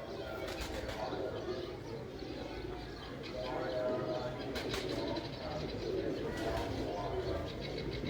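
Breeder pigeons coo softly over a rooftop loft with a low, continuous murmur of the flock. Scattered taps, flutters and faint voices mix into the background.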